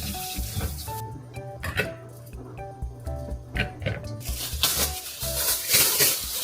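Running tap water splashes over apples being washed by hand, a steady hiss with irregular patters and splashes that grow louder and fuller toward the end.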